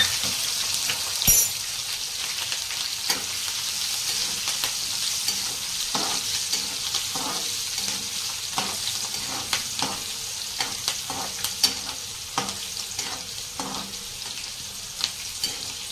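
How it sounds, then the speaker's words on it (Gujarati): Cumin, asafoetida and chillies frying in oil for chevdo, a soft continuous sizzle punctuated by repeated clicks and scrapes of stirring, fairly quiet and close, with no talk. "એક ચમચી જેટલું જીરું નાખીશું હિંગ નાખીશું મરચાં નાખી દઈશું"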